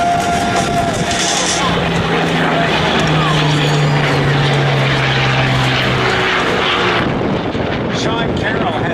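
A Yak-9 propeller warplane roars past at an air show, a loud sustained engine drone with a steady tone that fades at the end, while an announcer talks over it.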